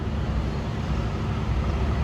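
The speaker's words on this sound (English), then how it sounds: "Make sure I'm not in the way of any of these big trucks rolling by." Big trucks rolling past at a truck stop, a steady low rumbling roar of engines and tires close by, continuous with no voices.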